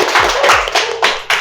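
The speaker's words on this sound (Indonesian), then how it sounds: "beri tepuk tangan dulu teman-teman" A few people clap for guests on a student podcast, a short burst of close hand claps with slight gaps between them, fairly loud in a small room.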